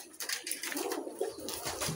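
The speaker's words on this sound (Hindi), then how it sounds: "ये दोनों भी ये कबूतर के बच्चे हैं" Pigeon chicks coo softly at close range, several short throaty calls in quick succession over a couple of seconds, with no voices.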